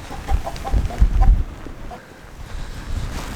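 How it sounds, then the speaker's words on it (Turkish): Soft chicken clucks come in a short run over steady wind noise on a farm during a storm, then fade as the breezy outdoor hiss continues. "Tavuklar şuraya girmiş arkadaşlar."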